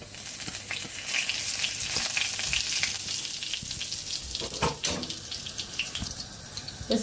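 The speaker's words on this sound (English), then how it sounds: "I'm going to add bay leaves into hot oil and then coriander seeds." Bay leaves and coriander seeds sizzle and crackle steadily in hot oil for a chicken curry, a close, continuous frying hiss with a few louder pops and clinks near the end.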